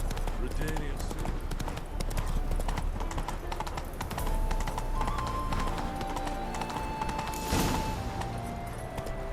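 Hooves of Roach, Geralt's horse in The Witcher 3, clip-clop in a steady trotting rhythm, close and clear, with speech and other game sounds layered over them.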